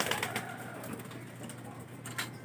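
Low, soft cooing of a racing pigeon repeats at close range against a steady background hum, with faint rustling.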